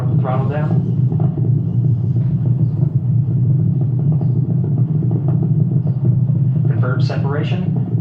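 Space shuttle main engines and solid rocket boosters roaring during launch, a loud, continuous, heavy low rumble with steady crackling, and spoken voices breaking in over it near the start and end.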